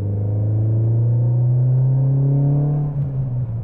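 A cheap old £500 road-trip car's engine holds a loud, steady droning note that climbs slightly before easing off near the end, heard up close with no distinct bangs.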